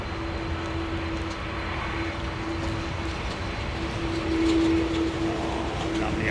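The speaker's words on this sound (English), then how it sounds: "lovely old CF6s on this 330. Look, listen to this thing." An Airbus A330 with CF6 engines at London Heathrow gives a loud, steady jet roar with a sustained tonal hum, swelling slightly toward the end.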